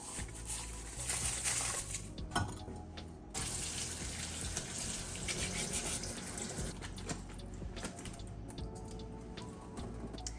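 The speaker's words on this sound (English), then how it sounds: "So all of this, I'm going to rinse, and then I'll dump those in with the other vegetables." Running tap water pours steadily into a kitchen sink while vegetables for a chicken soup are rinsed, a close, continuous splashing rush with brief changes in the flow and a few gaps.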